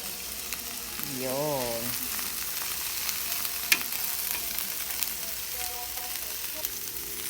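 Kangkong stir-fried in a pan for adobo, giving a steady close sizzle with soft stirring scrapes, and a voice briefly heard in the middle.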